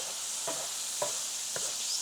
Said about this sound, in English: So what I'm going to do here is just fry this up